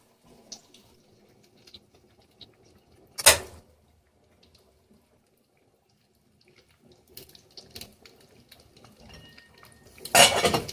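Pots, pans and cutlery clatter during a quick cleanup in a small kitchen, with a loud burst of metal dishware near the start, a running faucet and sink water, then more clinking and a second loud clatter at the end.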